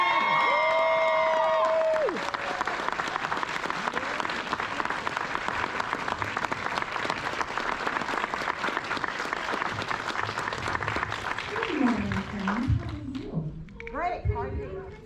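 A fan convention audience at Fan Expo Portland cheers and applauds for a Disney legend, sustained loud clapping with whoops, preceded by a voice and followed by speech as it fades.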